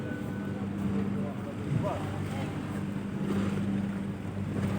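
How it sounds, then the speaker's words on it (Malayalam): A steady low engine drone and wind rush fill the air as a ferry heading to the mainland moves across open sea, with faint talk now and then. "മെയിൻ ലാൻഡിലേക്ക് പോകുന്ന ഒരു ഫെറിയാണിത്"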